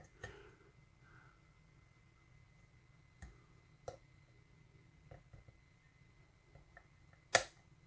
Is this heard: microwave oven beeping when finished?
no